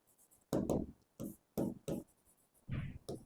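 Chalk or marker strokes scrape across a board in short separate bursts, fairly close, with pauses between them during a vocabulary lesson.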